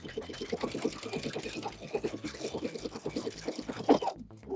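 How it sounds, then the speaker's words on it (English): A sewing machine back stitches along a curved welt pocket, giving a fast, close, rhythmic chatter of needle strokes that runs steadily and then stops abruptly near the end. "Make sure you're back stitching here at the beginning and the end, and just work your way all the way down"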